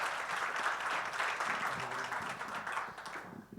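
Audience applause greeting a representative of the Recoleta municipality at an international district energy conference, a steady wash of clapping from a full hall that fades out toward the end.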